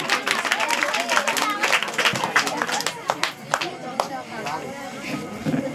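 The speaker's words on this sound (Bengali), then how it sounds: "সবাই হাততালি দিয়ে উৎসাহিত করুন" An audience at a school prize-giving ceremony for Teachers' Day claps in a scattered, lively patter of many hands at moderate distance, mixed with crowd voices throughout.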